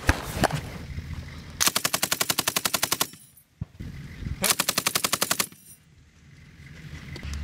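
A .50 caliber machine gun mounted on a Humvee fires two loud, rapid bursts heard from inside the vehicle, with brief pauses between them.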